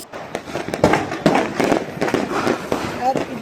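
Diwali firecrackers burst in a rapid, irregular string of sharp cracks and pops at close range, with people talking over the noise throughout.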